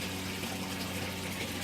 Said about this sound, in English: this pump is so strong it sucks most of the water out, pumping in here into the grow bed